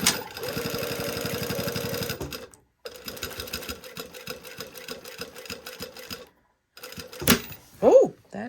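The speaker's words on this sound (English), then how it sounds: "Just going to top stitch all the way around the side, you know, the long side," A home sewing machine topstitches along the long side of a garment, a fast, steady mechanical needle chatter in close bursts that stop and restart, with brief pauses and a voice talking.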